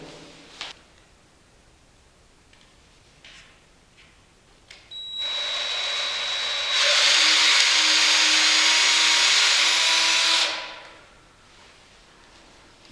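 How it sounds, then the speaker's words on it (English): A power drill with a 1/4 inch bit and countersink drills pilot holes through wooden frame sides into L-shaped frame struts for a Murphy bed: a few light handling knocks, then a loud steady whirring run of several seconds that ends abruptly. "using the 1/4 inch drill bit and countersink drill pilot holes through the frame sides into each of the L-shaped frame struts"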